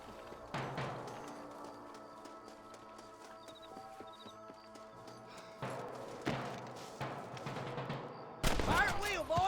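Gunfire erupts in a Red Dead Redemption 2 bandit shootout at a cabin, with sharp shots and bursts scattered over a busy game soundscape of horses clip-clopping and music, growing louder near the end.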